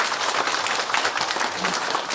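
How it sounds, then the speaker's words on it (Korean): An audience at a town talk concert in Eumseong-eup, South Korea, claps together in a dense, even burst of applause that stays steady throughout. "다시 한번 큰 박수 부탁드립니다"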